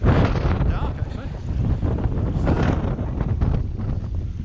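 Wind roars and buffets the microphone on a wet Moel Siabod mountain path in Wales, a loud, continuous gusty rush close up with no clear break.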